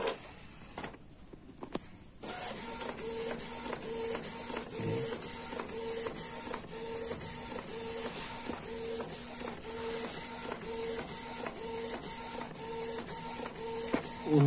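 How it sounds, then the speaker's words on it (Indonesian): A Canon IP2770 inkjet printer runs on its own, printing an ID card with dye ink, with steady mechanical whirring and regular ticking as the print head shuttles back and forth, close by. "Di sini saya menggunakan printer Canon IP2770."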